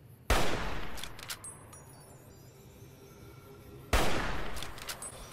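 Two loud gunshots several seconds apart, fired at a deathclaw in the video game Fallout New Vegas, each a sharp burst trailing into long rumbling decay, with faint clinks and game ambience between.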